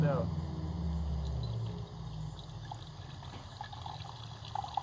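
Water is dumped out of a glass pickle jar, a steady pouring trickle for about two seconds that fades into quieter dripping and room noise.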